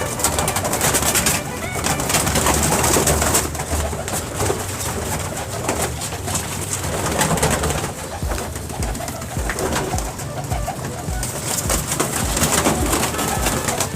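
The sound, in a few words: pigeons cooing, breeder pair pigeons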